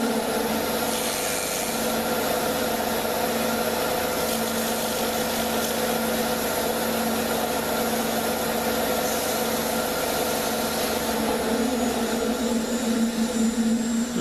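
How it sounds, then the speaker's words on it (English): Sandpaper is held against a turned wooden spinning top on a running lathe, making a steady, unbroken rubbing hiss over the constant motor hum, close and fairly loud, with no talking. "Now we'll just take the sandpaper and touch it up."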